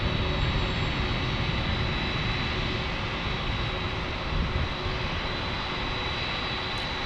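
An American Airlines Airbus A321 jet at San Diego airport gives a steady, loud engine roar with a constant whine, heard from nearby and alone without interruption.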